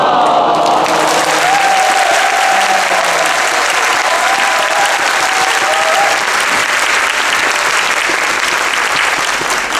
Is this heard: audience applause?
yes